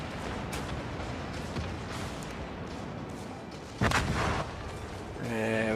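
Secondary battery guns of a Mikasa battleship fire in World of Warships, with a dense stream of rapid booming shots and one louder burst near the end over steady battle noise.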